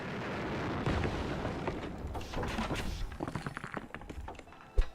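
Meteors strike the ground in the survival game Osiris: New Dawn, a series of low thuds and rumbling booms that rise and fall over several seconds, ending in one sharper impact.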